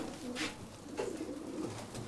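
Racing pigeons cooing in a loft, soft low throaty coos repeating over about two seconds, fairly close with faint background noise.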